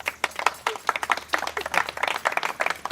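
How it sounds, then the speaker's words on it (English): Wedding guests at a ceremony clap together in sustained applause, dense overlapping claps at close range with no talk over them. "Give them a round of applause."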